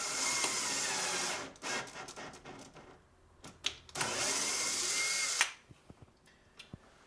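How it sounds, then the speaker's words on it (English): Power tool threading a hole in a wooden frame-and-panel door, two sustained whirring bursts of about two seconds each with brief clicks and knocks between and after them, close and fairly quiet, no talk. "I am going to go ahead and thread this middle hole."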